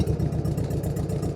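An old 1958 John Deere tractor engine idles with the choke on, giving a steady, close, low rumble with an even chugging pulse and no break.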